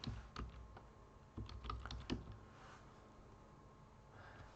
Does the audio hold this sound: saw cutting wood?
no